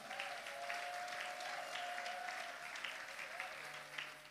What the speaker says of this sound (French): Est-ce qu'on peut les encourager par nos acclamations?